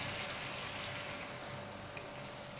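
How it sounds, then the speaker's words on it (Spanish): Water poured steadily into a pan during cooking, added after salt and lemon juice for a lemon pork loin dish; a continuous, close splashing pour with no talk. "Le voy a añadir un poquito de agua"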